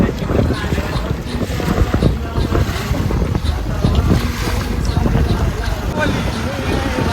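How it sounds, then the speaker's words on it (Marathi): A traditional dol-net fishing boat approaches, its steady engine drone blended with strong wind buffeting and water noise, while someone talks over it. "पांडा नाकवाची बोट इकडे येताना दिसत"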